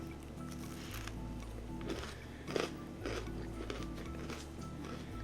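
Close-up crunchy bites and chewing on a chocolate chip cookie, several crisp crunches over a steady low background hum.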